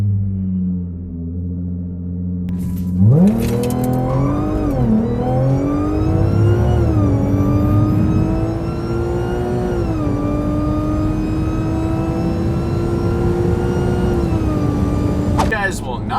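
A dual pulley Audi S4 launches down a drag strip quarter mile, its engine rising from idle into a loud sustained rev with supercharger whine, climbing through gear changes and holding high until an abrupt lift near the end.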